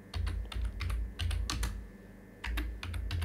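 Keys clacking on a computer keyboard while a file name is typed into a WordPad save box: quick bursts of close, crisp keystrokes in uneven clusters with short gaps between them.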